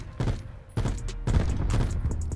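Rocket-mod weapon fire in a Call of Duty Black Ops match, with several sharp blasts in quick succession, each followed by a short rumbling tail, fairly close and moderately loud.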